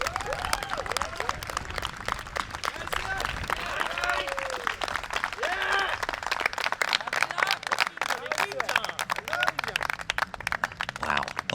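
Continuous applause and cheering from a crowd at a women's foot golf World Cup match, a steady dense patter of clapping with scattered whoops throughout, fairly loud and sustained with no pauses.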